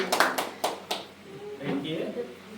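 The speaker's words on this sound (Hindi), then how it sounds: "हम ताली बजा के परमेश्वर की महिमा करेंगे।" Congregation clapping in praise of God at a Sunday prayer meeting in Indore: several loud sharp hand claps in quick bursts, then fading into murmured voices and talk.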